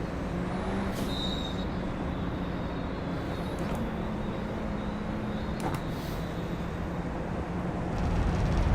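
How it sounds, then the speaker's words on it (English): A Radical race car at Road America brakes with a thin high squeal over a continuous engine and road roar, the squeal brief and intermittent, no voices. "I love that brake squeal"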